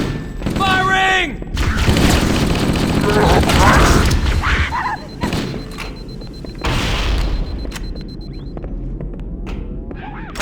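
Gunfire and explosions from the video game Halo: Combat Evolved, with heavy booms and thumping blasts over mechanical battle noise, and game voices shouting between them.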